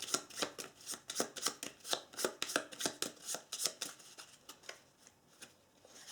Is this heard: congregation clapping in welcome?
no